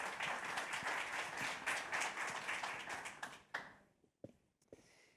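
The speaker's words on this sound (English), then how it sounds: "how about a little round of applause" Audience at an industry panel session giving a short round of applause, dense clapping for about three and a half seconds that thins out into a few scattered final claps.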